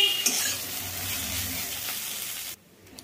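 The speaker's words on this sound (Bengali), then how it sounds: "এটা কিন্তু লো ফ্লেমে আমি একটুখানি রেখে রেখে ভালো করে নাড়াচাড়া করে নেব" Masala dosa filling stirred in a pan over a low flame gives a soft, continuous sizzle with gentle scraping, close by, until it drops away abruptly near the end.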